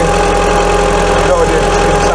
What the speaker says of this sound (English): So let's put this microphone near the engine, let's see how it sounds.